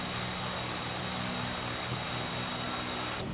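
Simulated Twin Otter engines running in a flight sim game, a loud, even turboprop drone with propeller buzz and a thin whine above, holding steady before cutting off sharply at the end.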